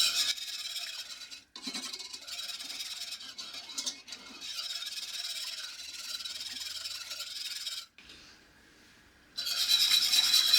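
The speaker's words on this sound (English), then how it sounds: "making sure we're scraping the bottom of the pan to get all that flavor" A utensil scrapes and rubs across the bottom of a pan while a garlic crockpot meal cooks, a continuous rasping scrape with brief pauses and a short quiet gap near the end before scraping resumes.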